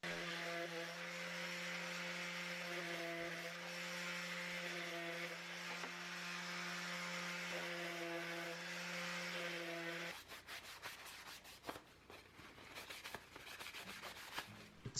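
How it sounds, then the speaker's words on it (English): An orbital sander fitted with 120 grit sandpaper works over a wooden stocking hanger, a steady humming whir with a constant motor tone for about ten seconds, then stops, leaving irregular rubbing and handling noises. "just giving it a quick sand with the orbital sander"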